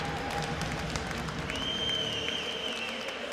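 Ice hockey players applaud their own fans after a European club cup final in an arena, a steady wash of clapping and crowd noise with a sustained tone running through the second half.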